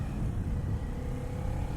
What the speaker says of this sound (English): the engine revs a little bit lazy